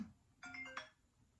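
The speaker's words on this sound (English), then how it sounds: "I got a phone call." A phone ringtone sounds for an incoming call, two short melodic bursts close together, fairly quiet and clear with no talk over it.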